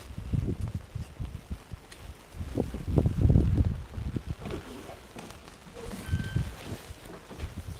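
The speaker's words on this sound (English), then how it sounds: "The wind has shifted now, and I'm fighting the wind in a different angle." Wind blows across a campground, buffeting the microphone in low, uneven rumbling gusts that swell and fade, with some faint movement noise underneath.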